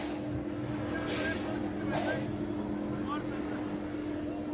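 A helicopter flies over a scene of public unrest in Nepal, giving a steady, moderately distant droning hum with faint voices in the background.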